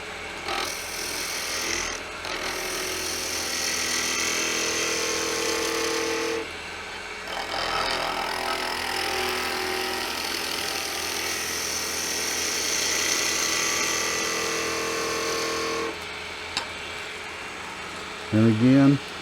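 A wooden Christmas tree box spins on a wood lathe, and a tool bites in for a short parting cut, giving a sustained scraping, rasping whir that stops and restarts in long passes, with brief talk near the end.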